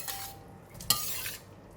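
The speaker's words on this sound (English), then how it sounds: "Give it a stir." Tofu and bean sprouts stirred in a pan, a quiet soft scraping and light sizzle with one brief metallic clink of a utensil against the pan, close and faint.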